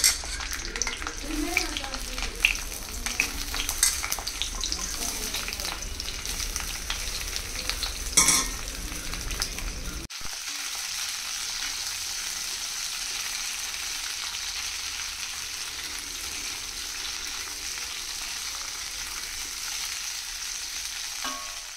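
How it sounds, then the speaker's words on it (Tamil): Ivy gourd sautéing in sesame oil in a hot kadai gives a steady, close sizzle with stirring scrapes that carries on throughout and turns quieter and smoother about halfway. "ஃபர்ஸ்ட் இதில் கொஞ்சம் நல்லெண்ணெய் சேர்த்து கோவக்காவை இதில் நல்லா வந்து வதக்கி எடுத்துகிட்டு போகணும்."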